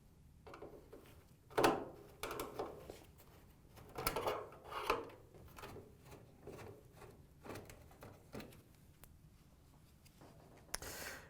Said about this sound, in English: we can close the dryer door and remove the upper four screws